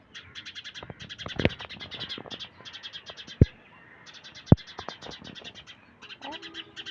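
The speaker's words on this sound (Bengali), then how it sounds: "এই তো পাখি চলে আসে।" Nesting birds outdoors chirping in rapid, repeated bursts of high calls, close and fairly loud, with a couple of sharp knocks in between.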